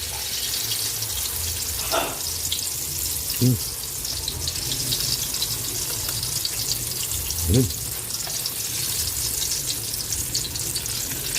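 Eggplant frying in a pan gives a steady, dense sizzle that runs throughout, broken by a few soft knocks and brief clatters.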